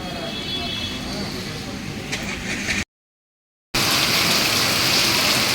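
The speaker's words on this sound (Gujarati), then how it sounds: "3 દિવસથી સતત વરસાદ ચાલુ" Heavy monsoon rain pours steadily in a dense wash of noise on a flooded highway after three days of nonstop downpour. A brief silent gap breaks it before the rain returns louder.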